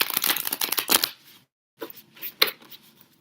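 Tarot cards shuffled by hand in two quick bursts of riffling and slapping, close and crisp, separated by a short pause, with no voice over them.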